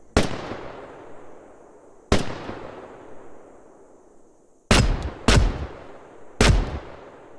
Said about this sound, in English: Only when we hear the sound of gunfire do we realize that the poachers have landed.